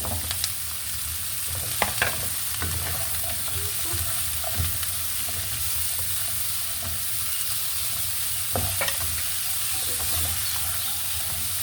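Chayote and long green chili stir-fry in a hot pan, a steady sizzle broken by scraping clatters of a utensil against the pan every few seconds, close and moderately loud, with no talking.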